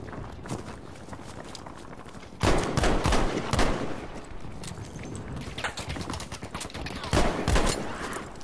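Gunfire in the World War II shooter Battlefield V, a steady run of rapid shots with louder bursts standing out near the middle and toward the end, with no talk over it.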